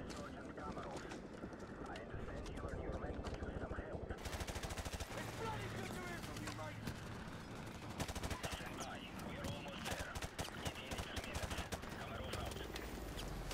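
Rapid gunfire in the Modern Warfare Remastered campaign, dense bursts of shots running nearly nonstop through the clip. It grows busier partway through, with a low mechanical rumble underneath and a voice talking over it.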